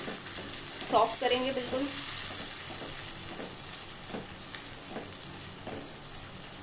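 Onions frying in a pan with tomato and raw mango added for a bitter gourd dish, giving a steady sizzle with some stirring scrapes throughout, while a person speaks briefly near the start.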